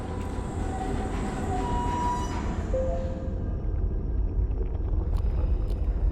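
A train rumbles steadily in the video game Abiotic Factor, a loud continuous roar of wheels and machinery with a faint squeal and a few light clicks near the end.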